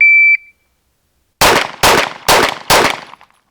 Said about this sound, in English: Alex, you want to hit the timer for me?